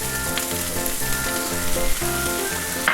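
Chilli, coriander and turmeric powder frying in a pan for a Kerala-style turkey roast give off a steady, close sizzle under a constant hum and a faint tonal background.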